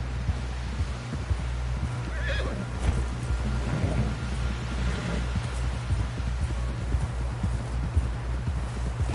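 Steady horse hooves clip-clopping in Assassin's Creed Odyssey, a continuous close trot running the whole time over a low rumbling background, with a brief whinny near the start and no talk.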